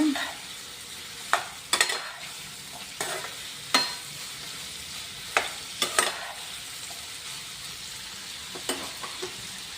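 Raw banana pieces fry in oil for a spiced palya, chili powder added: a steady soft sizzle broken by sharp, irregular scraping strokes of a spoon stirring in the pan.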